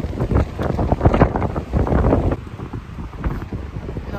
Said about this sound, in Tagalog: Malakas din kasi yung hangin.